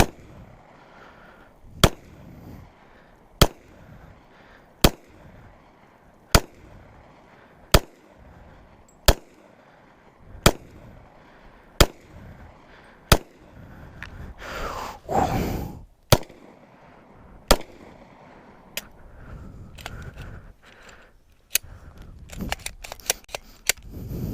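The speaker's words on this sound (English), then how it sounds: "So this is a Glock 23, 40 cal." Single shots from a Glock 23 .40 caliber pistol crack out one at a time at a slow, even pace outdoors, loud and close, with a quicker burst of shots near the end.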